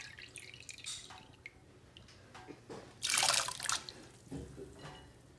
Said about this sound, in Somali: marka hadda digsiga aan ku shubayaa